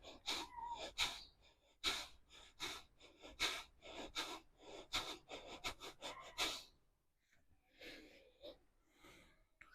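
Yoga breathing during half moon pose in a knee-pain routine: a series of close, sharp nasal inhales and exhales in an irregular rhythm, about eight breaths, then quieter rustling.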